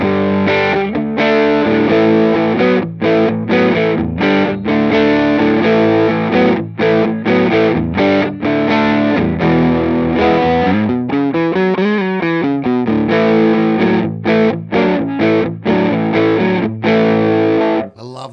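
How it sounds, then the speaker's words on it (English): Electric guitar with a P90 pickup played through an MC Systems NKM Dynamic Drive, loud distorted chords and riffs ringing continuously with a bend partway through, no voice. "I love the P90 sound."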